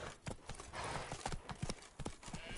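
Hooves of a horse trotting in Witcher 3, a quick, irregular clatter of hoofbeats over a soft bed of ambient noise, moderately close but fairly quiet.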